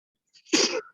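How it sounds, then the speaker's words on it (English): A single sharp sneeze, close and loud, with a short intake of breath just before it. "I'm sneezing now."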